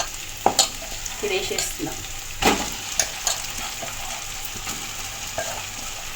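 Ingredients fry in a pan under a steady sizzle while a utensil stirs and scrapes with irregular sharp knocks and clatters, and a voice speaks briefly.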